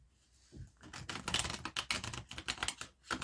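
Tarot cards being shuffled up close, a quiet run of rapid flicking and riffling taps lasting a few seconds.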